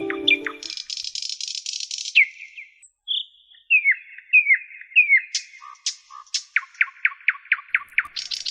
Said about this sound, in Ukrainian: Соловейко тьох-тьох-тьох, потанцюємо удвох